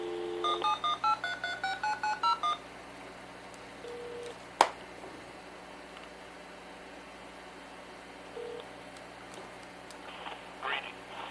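Rapid sequence of about ten DTMF telephone tone-dialing beeps in quick succession, clear and steady, followed by a faint single click and low background hiss.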